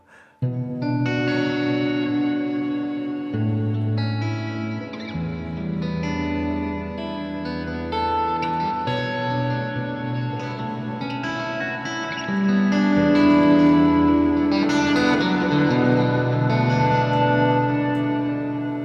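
Guitar through an effects unit with reverb routed in series gives a lush, echoing wash as chords and single notes sustain and blend continuously, growing louder toward the end, with no voices.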